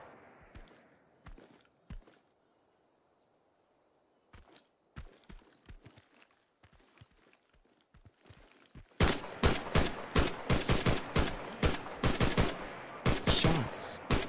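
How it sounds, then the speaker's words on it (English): Gunfire from the military shooter game Incursion Red River: scattered single shots and footsteps at first, then a loud, dense burst of rapid automatic fire and repeated gunshots that keeps going for several seconds. "Shots."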